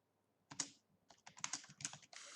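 Quiet keystrokes tap out a short burst of typing on a computer keyboard, clustered in quick irregular runs, close and soft with no voices.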